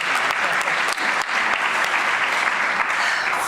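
An audience at a winter solstice service claps steadily and fairly loudly, a continuous wash of hand claps for several seconds with no voices over it.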